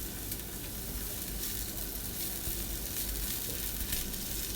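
Spring onions sautéing in a hot pan for restaurant-style chilli chicken, a steady dense sizzle and crackle that runs unbroken and close throughout, with no voices.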